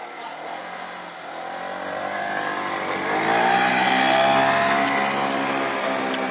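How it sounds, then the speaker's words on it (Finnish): Car being push-started as its engine catches and revs up, the tone rising and swelling louder toward the middle before holding steady; no clear voices. "jätkät työntää autoa käyntiin"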